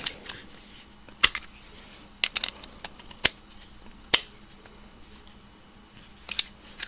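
A coarse-toothed stamped, riveted socket ratchet clicks as a fastener is tightened, giving sharp, sparse clicks, sometimes singly and sometimes in quick pairs, close and distinct over a quiet background.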